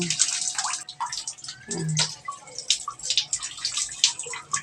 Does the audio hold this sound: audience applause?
no